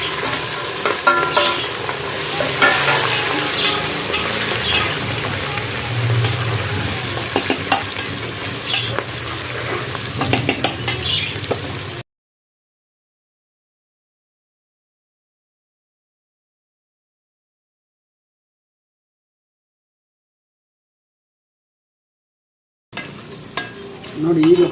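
Onions and green chilies sizzle loudly in a pan as they are stirred with scraping strokes for a bachelor-style batani chicken biryani. The sizzle drops to a long silence, then returns briefly at the end.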